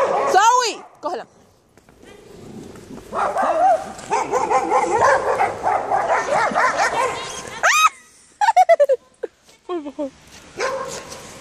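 Dogs bark, yip and whimper while playing in snow, a series of close, sharp barks in bursts with people talking between and over them.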